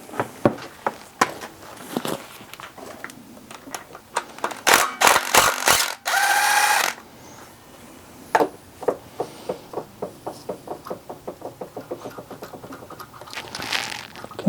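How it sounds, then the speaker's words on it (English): Ratchet backing out a cap bolt on a blown-up Chevy Cruze engine, long series of crisp close ratcheting clicks at a quick even pace, broken midway by a burst of louder metallic knocks and a brief grinding rasp. "let's take that cap bolt off, the one remaining one."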